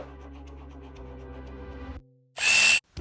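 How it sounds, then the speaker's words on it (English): A cordless electric screwdriver whirs steadily for about two seconds driving a screw into a plastic RC car wheel hub, stops, then gives a short, louder high-pitched burst. "I'm switching to the electric screwdriver"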